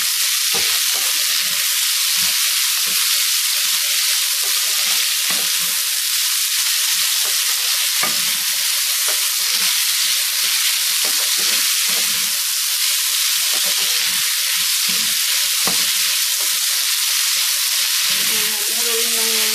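Snake gourd and prawns sauté in a pan for a snake gourd prawn curry, giving a steady, loud, dense sizzle with faint stirring scrapes throughout and no talk.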